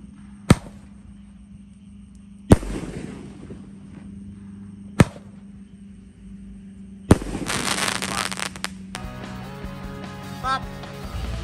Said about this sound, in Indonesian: menyalakan mercon Roman candle terbanyak dan Roman candle terbesar malam ini